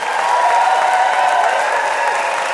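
A theater audience at a comedy debate show bursts into sustained applause, a dense, even roar of clapping with a faint undertone of cheering, heard close and loud for a couple of seconds.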